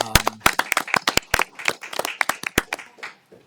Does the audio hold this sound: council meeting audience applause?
yes